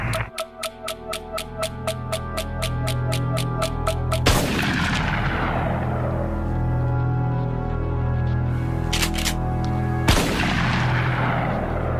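Gunfire outside a school in a dramatized scene: a rapid run of sharp regular shots, then two heavy booming blasts with long rumbling decay over a low background hum, loud and without speech.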